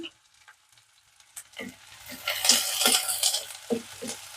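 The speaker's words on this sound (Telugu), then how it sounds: "ఉల్లిపాయలు మంచి కలర్ రావాలి కలర్ వచ్చే వరకు వేయించుకోవాలండి" Sliced onions sizzle in hot oil in a pan with curry leaves and salt, for an eggplant curry. The sizzle starts quietly, then swells into loud steady frying with a few clinks of stirring.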